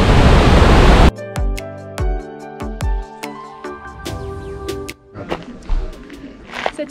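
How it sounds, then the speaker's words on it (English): The loud roar of a nearby waterfall at La Fortuna, Costa Rica fills the first second, then cuts off abruptly, leaving scattered clicks and knocks. "The waterfall is so loud."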